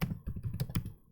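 Quick bursts of keystrokes on a computer keyboard while code is entered, close and fairly quiet, a short uneven run of clicks that trails off.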